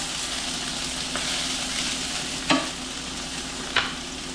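Sausage and garlic frying in a pan, a steady close hiss of hot oil with two sharp clicks of a utensil against the pan.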